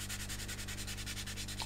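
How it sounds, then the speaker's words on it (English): Rhythmic fore-and-aft sanding strokes on an aluminium-foil-finished scale model, a steady, close rasping rub repeating about eight times per second with no talking. "I've sanded across this in a fore and aft direction now."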